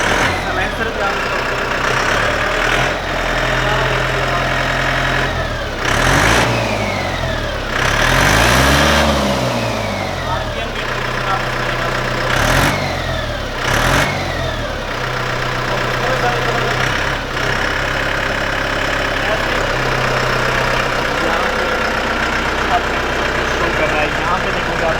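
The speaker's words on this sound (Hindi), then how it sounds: "ट्रैक्टर की जो आवाज़ है ना, मतलब ऐसे फील आता है जैसे महिंद्रा थार थी पुरानी" A Solis Yanmar tractor engine runs steadily close by, with several sharp revs that rise and fall over a constant low idle, and talk is heard over it.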